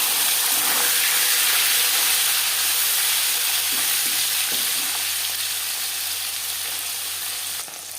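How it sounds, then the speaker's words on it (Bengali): Marinated bele fish frying in hot refined oil, a steady loud sizzle and hiss that fades slightly toward the end, with a few soft clinks of a utensil in the pan and no voices. "আমি একটু কড়া করেই ভাজবো"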